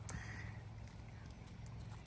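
Small horses clip-clop with light hoof steps on a farm shared with alpacas, a steady close patter over low background rumble, with a brief voice early on.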